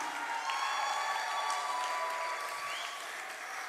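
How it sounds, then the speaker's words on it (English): Applause from an audience fills the room, steady and moderately loud, with a few faint high tones running through it. "A huge round of applause for yourselves as well."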